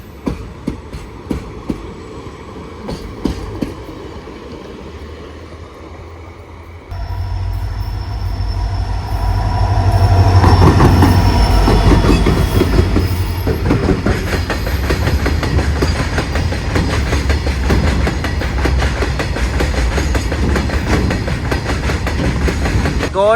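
A box-wagon freight train hauled by WDG4D and WDG4 diesel locomotives roars past near Suravali, Goa: a diesel rumble swells in, then a long loud stretch of clattering wheels over rail joints.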